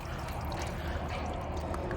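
Watery fuel draining from the fuel filters of an old tank being revived after 30 years, a faint, steady trickle and pour of liquid running continuously with no voices.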